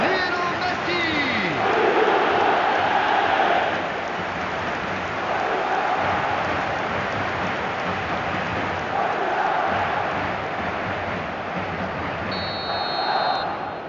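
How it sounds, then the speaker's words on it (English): Stadium crowd in the football video game eFootball roaring and cheering after a goal, a dense continuous wash of noise that swells and eases, with a commentator's voice over it. "the crowd are reacting to that now"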